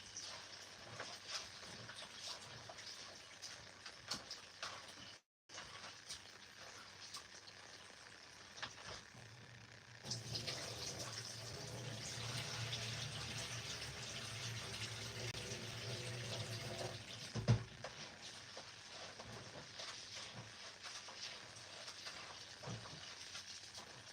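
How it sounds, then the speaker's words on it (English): A kitchen tap runs steadily while rice is washed, with a hiss of water broken by a brief cut, then a fuller, louder rush as the flow strikes the grains and bowl, carrying on at length without speech. "I'm washing the rice."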